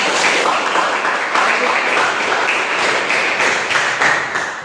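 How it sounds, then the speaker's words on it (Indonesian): Applause from an audience at an Indonesian teacher-training class session, a steady dense wash of clapping that fills the whole moment at close range and fairly loud level, with possible faint voices mixed in. "Bagus, silakan tepuk tangan."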